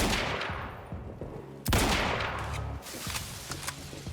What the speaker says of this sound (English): that was quite the explosion from such a distance